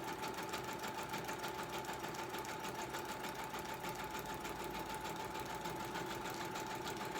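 Sewing machine running steadily as it stitches through a paper bag, a fast even mechanical whirr with rapid needle clatter, continuous and close.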